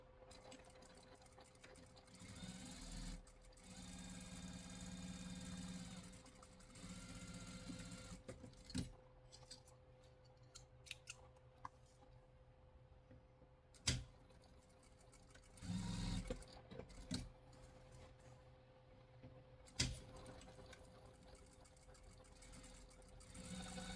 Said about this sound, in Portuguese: vamos costurar essa parte pontilhada e essa aqui pontilhada também